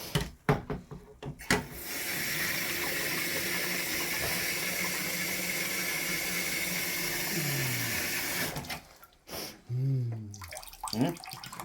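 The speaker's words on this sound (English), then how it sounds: "now we're adding 2 litres of water to this concoction" Water from a tap pours steadily into a container while two litres are added to a ruby porter brew, a constant rushing splash for about seven seconds framed by brief voices before and after.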